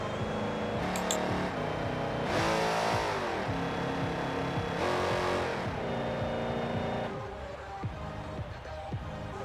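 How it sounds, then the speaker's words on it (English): A car engine in Forza Horizon 4 revving repeatedly, its pitch rising and falling in several surges before settling into a steadier drone, loud and close throughout. "you'll just see me mucking around with the RPMs"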